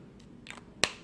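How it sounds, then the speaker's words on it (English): Dolce and Gabbana L'Imperatrice perfume is sprayed onto a wrist in one short, crisp hiss at close range, following a few faint softer puffs. "So I'm going to spray it on this wrist"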